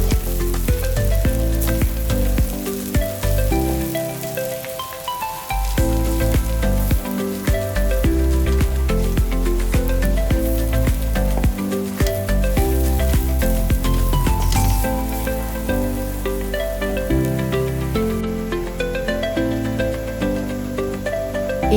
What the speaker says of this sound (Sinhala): ඊළඟට අපි මේකට නූඩල්ස් ටික එකතු කරගන්නවා. ඒ ටික අපි හොඳට කලවම් කරගන්නවා.